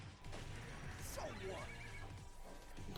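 A horse in Soul Hackers 2 gives a loud, rising and falling neigh in the middle of the moment, over a steady bed of game music and effects.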